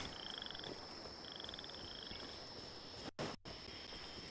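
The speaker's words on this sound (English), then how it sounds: "You can hear all of the frogs." Frogs in the Genshin Impact video game croak in rapid pulsing trills over a dense, hissing night ambience, two bursts in close succession, then a brief dropout in the sound.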